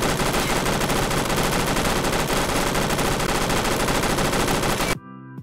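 An HK-21 machine gun fires in Phantom Forces as one loud, dense, unbroken burst lasting about five seconds, then cuts off abruptly, leaving a faint ringing tail.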